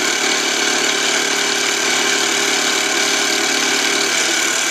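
A milling machine cuts a slot into a .22 LR shell holder, producing a continuous, loud, dense whine and hum of the spinning cutter with no break.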